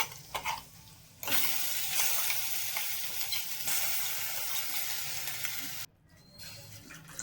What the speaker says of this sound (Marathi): मसाला चांगलं परतून घ्या.